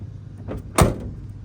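A door on an abandoned 1979 Ford F-150 Custom 4x4 pickup swings shut with one loud, solid thud, preceded by a faint creak of the hinge.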